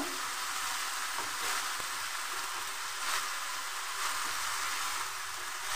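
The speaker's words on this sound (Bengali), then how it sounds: "এবার দিয়ে দিচ্ছি একটু সামান্য জল মশলাটা কষার জন্য" Masala spices sizzling in a pan with a splash of water while a bitter gourd dish is cooked: a steady, even hiss of frying with faint stirring, no voices.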